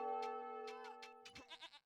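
Goats bleat in a video game village map, a short harmonic bleat followed by quick wavering calls, close and clear with no talk.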